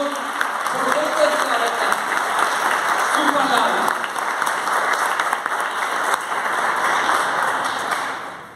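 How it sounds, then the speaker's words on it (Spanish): A church congregation applauds in praise during a live worship service, a dense, steady roar of clapping hands that fills the room for about eight seconds before tapering off at the end. "¿Cuánto puede creer y dar un aplauso al Señor por esta declaración?"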